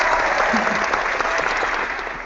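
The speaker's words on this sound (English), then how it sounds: "Here's a big round of applause for Snapchat guys" Brief, steady applause from a small group, even and continuous throughout before easing slightly at the end.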